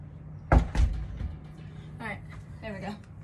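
A door opening nearby during a commercial Sanitare wide track upright vacuum review, heard as two loud thumps close together early on, followed by speech.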